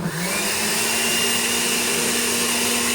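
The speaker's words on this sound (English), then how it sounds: "I'm going to toss this in the blender for about a minute." Blender whirring steadily while mixing an egg white sour cocktail, a loud continuous motor whine that holds an even pitch for the whole stretch, with no talking.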